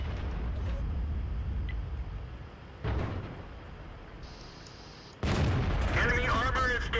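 A Challenger tank is destroyed in the game World of Tanks, heard as loud booming blasts, one sharp hit near the middle and a heavier burst of explosion and debris later, over continuous rumbling game background.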